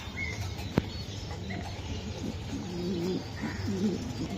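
Racing pigeons coo in low, rolling phrases amid a busy bird-market hum, with a sharp knock early on and softer chirps scattered through the background.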